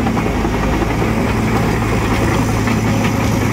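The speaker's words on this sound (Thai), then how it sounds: "เครื่องยนต์4สูบนะครับ" A steady low four-cylinder, 145-horsepower engine idle rumbles close by, even and continuous with a faint mechanical knock and no voices.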